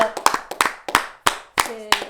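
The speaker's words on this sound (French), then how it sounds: "Est-ce qu'on peut applaudir" A handful of people clap in sharp, separate bursts during a Cameroonian lottery broadcast celebrating a one-million-franc prize, close and loud, with short gaps between the claps and some voices in the background.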